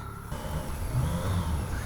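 A 1986 BMW K75c motorcycle engine revving, a faint, mid-pitched engine drone that rises and swells, with no talk.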